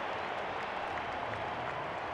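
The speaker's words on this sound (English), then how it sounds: "Crowd settles down again for the second half." A stadium crowd at a Warrington Wolves versus Wigan Warriors rugby league match in the RL26 video game cheers and applauds in a steady, dense roar.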